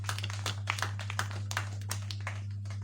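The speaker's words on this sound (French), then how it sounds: "Tous applaudissez." Scattered audience applause at a cultural gathering, uneven handclaps in a sparse, irregular rhythm over a steady low electrical hum, fairly faint and without speech.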